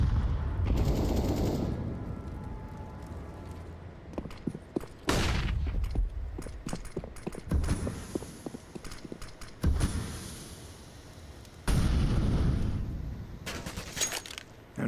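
AK rifle fire in a professional Counter-Strike match between Apeks and GamerLegion cracks out in sharp, loud bursts that repeat every few seconds, mixed with shorter single shots and in-game footsteps.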